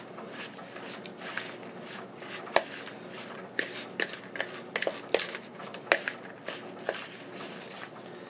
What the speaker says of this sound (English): Now you just want to go ahead and start to stir a little bit.